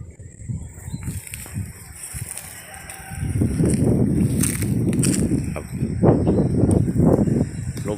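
Chickens cluck and a rooster crows in the open fields of a farm, the calls rising louder and busier in the second half amid outdoor noise.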